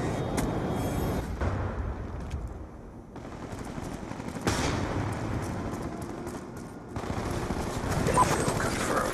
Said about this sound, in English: Hellstorm missile inbound